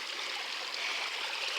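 Small waterfall cascading into a garden pond, a steady close splashing rush of falling water without pause and with no talking.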